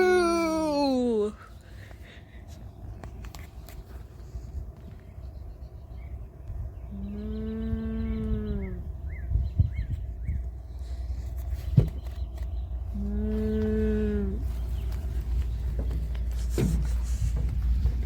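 Cows on a farm at Heartland give several long, deep moos at close range, one at the start and two more spaced a few seconds apart, over a steady low hum.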